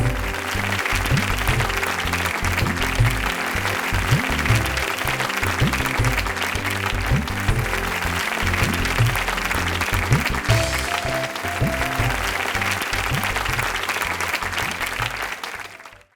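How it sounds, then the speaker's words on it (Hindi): Audience at a Bhojpuri film awards ceremony gives loud, sustained applause for a screenplay award, heavy clapping over a thumping music backing that continues throughout before cutting off at the end. "जोरदार ताली"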